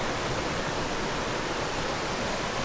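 Water in a small stream flowing beneath a bridge partly destroyed by flooding: a steady, dense rushing hiss that holds even throughout, with no voices.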